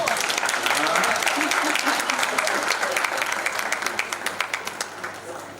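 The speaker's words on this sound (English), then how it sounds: "Keep clapping until she arrives." Sustained applause from a conference audience at a national safe motherhood meeting in Munyonyo, dense clapping that thins toward the end into scattered individual claps, with faint voices mixed in.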